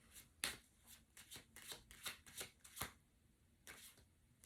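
A deck of cards is shuffled for a card reading, with quiet, close riffling and slapping in a quick irregular series of bursts and a short pause near the end.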